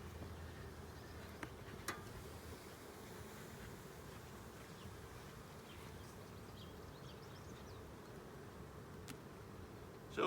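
Honeybees buzz steadily around an open hive during a summer inspection after being smoked down, a constant close drone with a few brief knocks and no talking.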